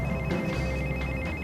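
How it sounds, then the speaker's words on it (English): A plain, basic telephone ringtone trills steadily and loudly throughout, a continuous electronic ring with no voices over it. "He seems to have changed his ringtone from My Humps to a basic one."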